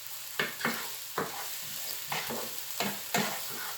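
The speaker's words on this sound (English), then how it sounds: "So we're gonna get these onions softened up." Onions sizzling and softening in a pan, a quiet low sizzle broken by about half a dozen stirring scrapes spaced through, close by with no talking.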